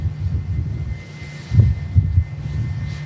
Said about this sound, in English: It's a plane leaving on time.